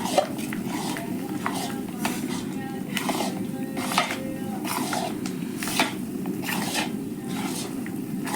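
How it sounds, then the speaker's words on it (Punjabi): A spoon stirs and mixes panjiri ingredients in a pan over a gas flame, with repeated scraping strokes and light clinks in a steady rhythm over a constant low hum. "ਸਾਰਾ ਚੰਗੀ ਤਰ੍ਹਾਂ ਆਪਾਂ ਨੇ ਮਿਕਸ ਕਰ ਲੈਣਾ ਜੀ"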